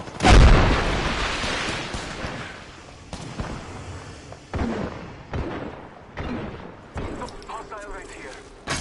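A frag grenade going off in the Apex Legends video game, a sharp loud boom at the start followed by rumbling gunfire and impacts, with voices talking over the action.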